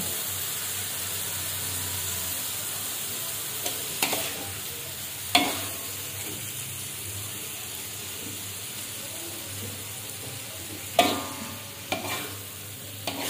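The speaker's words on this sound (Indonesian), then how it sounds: "Ini kita tumis sampai benar-benar bumbunya udah meresap semua ke hati ampelannya ya teman-teman." Chicken liver and gizzard stir-fried with spices over low heat, a steady close sizzle under a low hum, punctuated by several sharp spatula scrapes and knocks against the pan.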